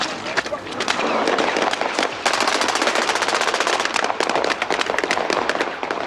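Rapid machine gun fire on the film set of Chappie, dense bursts of overlapping shots rattling continuously at close range, loud and sustained for several seconds.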